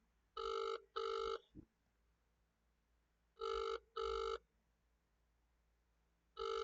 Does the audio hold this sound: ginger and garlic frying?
no